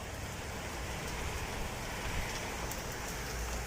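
Steady rain pours down outdoors, a dense, even hiss of drops on surfaces that stays constant throughout with no voices.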